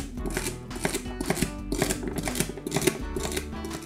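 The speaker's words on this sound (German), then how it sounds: "Den Staudensellerie genauso klein schneiden." A knife chops celery on a cutting board in a steady, rhythmic series of sharp, close knocks with no talking.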